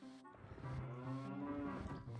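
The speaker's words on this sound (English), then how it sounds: "I actually feel sorry for these cows being cooped up in here." Cattle in a barn in Zelda: Ocarina of Time 3D give low, drawn-out moos, heard alone at a soft level with overlapping calls.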